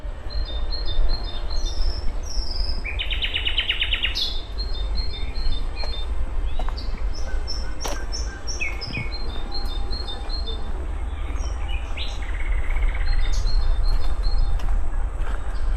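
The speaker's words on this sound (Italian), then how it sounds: "ma sentite gli uccellini?" Small birds chirp and trill in short repeated phrases along the Toce river, with steady broadband noise underneath.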